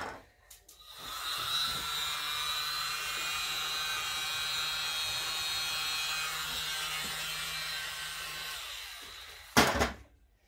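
Air blown hard onto cell activator spread over resin art, a steady loud hiss of rushing air lasting about eight seconds, with a short burst of handling noise near the end and no voices.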